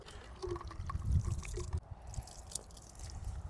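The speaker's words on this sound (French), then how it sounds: "Je vais pouvoir rincer la pierre et la lame." Water splashes and trickles over a whetstone and the blade of a Legend bushcraft axe as they are rinsed, a close, steady wet rushing with a few drips.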